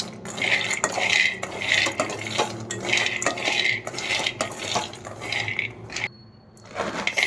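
Peanuts roasting in a pan are stirred with a metal spoon, rhythmic scraping and rattling strokes close by, pausing briefly near the end before resuming.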